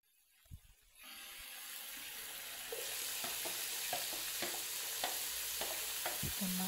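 Chicken kabsa being stirred in a frying pan, a steady sizzle starting after a brief quiet moment, with repeated scraping stir strokes at an uneven rhythm, close and moderately loud.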